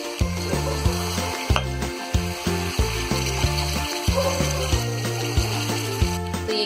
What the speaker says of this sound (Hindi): थोड़ा सा डालेंगे हम पानी।